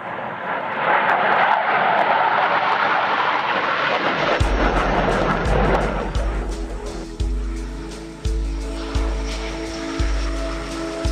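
A Grumman E-2 Hawkeye carrier-based aircraft passes at a French air show, a loud, broad engine roar that sweeps and fades, followed by a steady droning tone with rhythmic pulsing.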